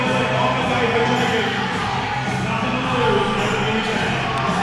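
At a powerlifting nationals deadlift attempt, a packed crowd yells and cheers loudly and continuously for the lifter, a dense wall of shouting voices.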